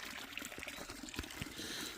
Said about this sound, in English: Here's the spring water at Derricks Knob Shelter.